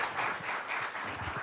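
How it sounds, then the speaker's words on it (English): Audience at a policy panel on immigration claps briefly after the session, a short, fairly soft patter of applause heard from within the room. "Okay, fantastic panel. Round of applause, please."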